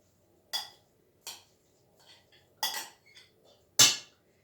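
A spoon scrapes and clinks against a bowl while mixing cheese and egg filling for Turkish sini böreği, several sharp separate knocks with short quiet gaps between them, close and alone.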